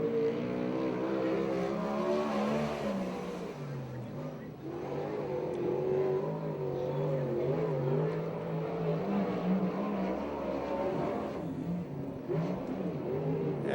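A 360 horsepower sprint car in a USAC/CRA race at Tulare laps a dirt track, its engine a loud, continuous raspy roar that rises and falls through the corners, close and sustained.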